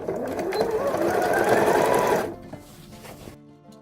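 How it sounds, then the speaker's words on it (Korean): A sewing machine stitches a 1 cm seam along the top of a lined drawstring eco bag, a close steady whirring run of about two seconds that stops, followed by quieter handling sounds. "위에를 1cm 시접으로 박음질을 할 거예요."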